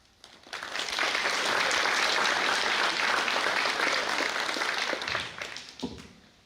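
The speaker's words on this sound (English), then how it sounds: "Could we please give a round of applause to the students who won a subject-specific award?" A school awards ceremony audience applauds students receiving subject-specific awards, a sustained, even wash of clapping for about five seconds that tapers off near the end, with no talking over it.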